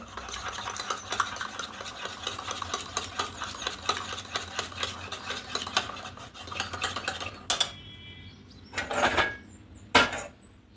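A raw egg mixture with salt and pepper powder is stirred briskly in a bowl for an egg roll. The utensil scrapes and taps rhythmically, then comes to a stop with a few sharp clinks near the end.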